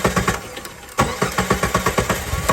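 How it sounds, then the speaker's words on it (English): A car engine cranks with a rapid, rhythmic chugging of the starter, pauses briefly, then cranks again in a steady loud pulsing series, close by, with no voices. "Woodstock start the vehicle"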